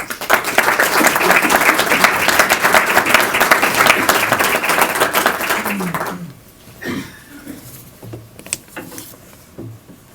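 An audience at a Baylor institute lecture applauds in a dense, steady wave of clapping for about six seconds, then it thins out into scattered claps, shuffling and room noise.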